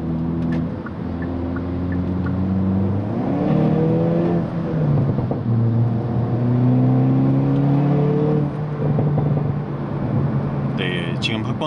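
A Hyundai Kona N accelerates hard on the road, its engine climbing loudly through rising gear pulls with brief pops from the exhaust, while someone talks over the sustained drone inside the car.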